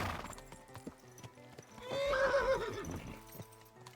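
A horse in the video game Kingdom Come 2 gives one clear, wavering neigh over steady clip-clopping hooves, fairly close and without talk.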